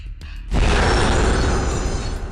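Loud, sustained blast erupts after a brief quieter lead-in in the Half-Life mod Wrong Door, as a dragon flies across the map firing lasers and explosions; a dense roaring rumble fills the rest of the moment.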